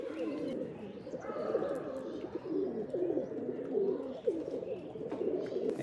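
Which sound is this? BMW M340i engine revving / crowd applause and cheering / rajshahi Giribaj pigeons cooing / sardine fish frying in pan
rajshahi Giribaj pigeons cooing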